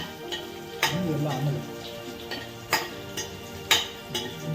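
Spinach (palak) gravy frying in a pan, a steady close sizzle with several sharp metallic clinks of a spoon stirring against the pan, a voice faintly present underneath.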